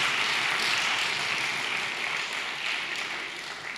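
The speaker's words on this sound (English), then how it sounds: "let's give them a round of applause for what we are about to celebrate tonight" Steady, full applause from an audience at a Ghana Our Motherland 2016 celebration with a chorale, a dense wash of many hands clapping continuously and fading slightly at the end.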